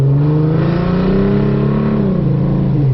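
A 4.0 V6 Mustang with a cam and dual Cherry Bomb mufflers revs loudly and close on a rainy road, pitch rising and falling steadily in a continuous drone, with no clear sound of tires spinning.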